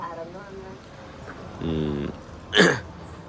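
One short, sharp cough bursts out near the end, after some brief voiced murmurs and a low hum, in a government hospital.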